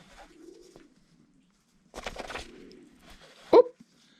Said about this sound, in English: This little bird, Carly, is now laying the egg straight into the palm of my hand.